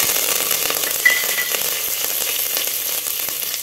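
Curry leaves dropped into hot oil for a one-pot rice and lentil dish, producing a dense crackling sizzle with scattered sharp pops and a brief louder spatter near the start.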